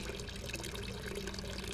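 Water fills a container in the Hello Neighbor mod kit game, a steady hissing rush of running liquid with no voices over it.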